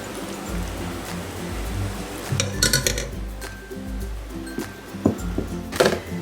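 Cooked pasta stirred into creamy tomato sauce inside a Ninja Foodi pot, with a utensil clinking and scraping against the metal bowl in a steady rhythm and a few sharper knocks near the end.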